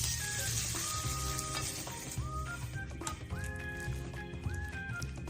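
Carrot batter sizzles in sesame oil in a frying pan over medium heat, a steady close crackle that runs unbroken throughout, with thin tonal sounds layered over it and no one speaking.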